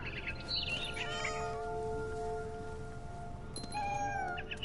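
A cat meows several times in the video game What Remains of Edith Finch, drawn-out cries over a steady ambient game score, with a final meow near the end.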